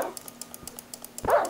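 A dog barks in a video game, a short burst near the end over a run of faint, regular clicking like keyboard taps.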